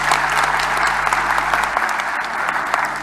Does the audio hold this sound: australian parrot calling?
no